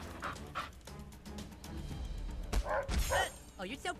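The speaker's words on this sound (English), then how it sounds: "These damn dogs." Dogs in the video game South Park: The Fractured But Whole bark, yip and whimper in quick, sharp bursts, with someone talking under and between the barks.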